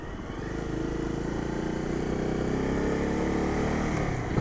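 A Honda 250 Rally motorcycle with its stock exhaust rides along with a steady, droning engine note, fairly loud and continuous, mixed with wind rush.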